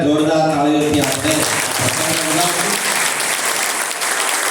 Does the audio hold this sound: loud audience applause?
yes